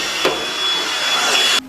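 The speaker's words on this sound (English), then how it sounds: "Always want to vacuum up all the dust anytime you're working with this stuff." A vacuum cleaner sucks up carbon fiber dust in a workshop while making custom parts for a Yamaha MT-09, a loud, steady close-up whoosh with brief knocks against the surface before it cuts off at the end.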